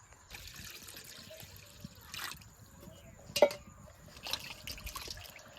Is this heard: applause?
no